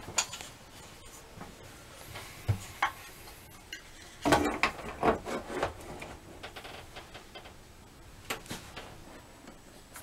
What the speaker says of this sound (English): I just finished tightening all 3 screws